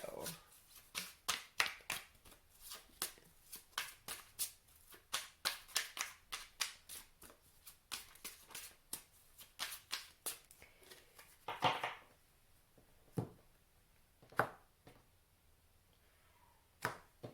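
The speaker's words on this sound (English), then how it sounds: "I just do these hand shuffles like this just for the camera" Tarot cards shuffled by hand in a rapid run of crisp riffling slaps, close and fairly loud, before slowing to a few separate snaps with quiet pauses between.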